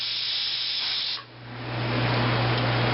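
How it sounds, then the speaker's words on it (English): A pressure canner cooling after processing squash vents steam in a loud, steady hiss that dips briefly, then swells back stronger, with no talking. "There's still steam."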